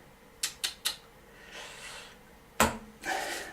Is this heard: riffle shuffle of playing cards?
yes